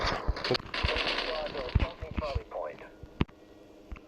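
Rapid bursts of automatic gunfire and sharp single shots crackle in Battlefield Mobile gameplay, loud and close, while a player talks over the shooting.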